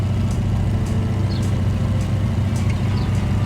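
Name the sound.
BF 108 Taifun aircraft engine increasing power to taxi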